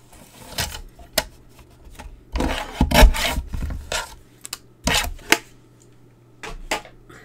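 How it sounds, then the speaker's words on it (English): Folded card paper being trimmed for a one-sheet card project, giving a series of short dry rasping cuts and rubs at close range, some louder bursts mid-way, with quiet gaps between and no talk. "Let's just fold that in half and trim it."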